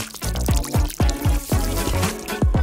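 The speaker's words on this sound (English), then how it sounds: "Just add water." Water pours into a plastic detergent bottle in a rapid run of gurgling glugs, each splash rising in pitch as the bottle fills, close and loud with no talk.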